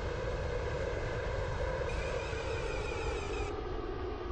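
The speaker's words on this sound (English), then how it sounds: "This train is now approaching" A train in the Roblox game Stepford County Railway pulls into a station with a continuous engine-like drone and a rising whine, steady and fairly loud throughout, with no one talking.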